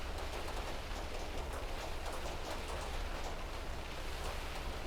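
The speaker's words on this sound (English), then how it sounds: "Quite the hailstorm we're having right now." Hail falling during a hailstorm in the Outbrk storm-chasing video game, a dense, steady roar of pelting ice and rain, loud and unbroken throughout with no voices.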